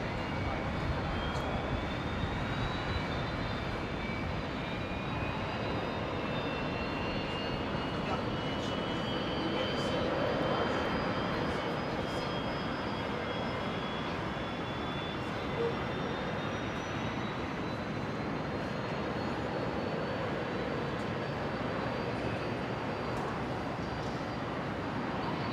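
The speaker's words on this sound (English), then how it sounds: "Jetstar 569 here, the 320 going to be going off of 19er left," A Jetstar Airbus A320 departs runway 19 left at Brisbane Airport, its engines a distant, steady broadband roar that swells slightly midway, with a faint rising whine and no talk over it.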